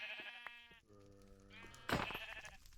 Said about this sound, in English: Oh, sheep, sheep, sheep.